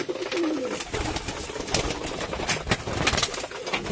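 A Rajshahi giribaz pigeon coos in repeated low, throaty phrases close by, mixed with light rustling and shuffling from other birds in a loft.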